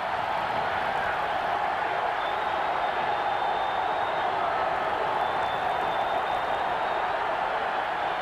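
A packed football stadium crowd at a 1985 Alabama–Georgia college game roars in a continuous dense wash of cheering and clapping, distant and steady throughout.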